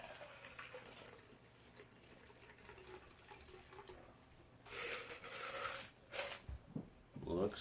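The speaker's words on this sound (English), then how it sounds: "pour into your martini glass" A shaken cocktail is poured into a martini glass, a soft trickling stream over low room noise that grows into splashy bursts toward the end.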